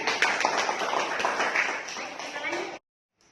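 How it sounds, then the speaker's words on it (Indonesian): A classroom of students claps for a presenting group during an Indonesian literature micro-teaching session, a dense patter of hands close by that stops abruptly. "Tepuk tangan dulu"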